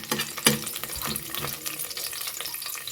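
Onions frying in oil and ghee for ghee rice, a close crackling sizzle with a sharp spatter early on and scattered stirring clicks over the steady hiss.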